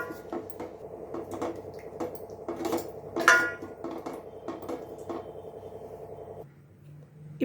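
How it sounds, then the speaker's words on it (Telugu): Spoon scraping and clinking against a pan as tomato egg curry with soft-cooked masala and tomatoes is stirred after a glass of water is added, with wet squishing and repeated metallic taps, steady and close, no talk. "బాగా కలపాలండి."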